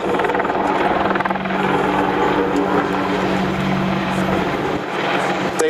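A Boeing AH-64 Apache attack helicopter flying a display at the ILA Berlin Air Show 2016, its rotor and turbine roaring loudly and steadily with a rhythmic thumping pulse, fading slightly at the end.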